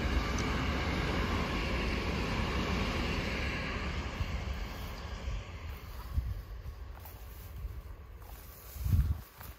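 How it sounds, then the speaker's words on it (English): A train rumbles past at a distance near an abandoned golf course and paintball centre, a broad low roar that slowly fades, ending with a brief thump nearby. "There's a train there, look."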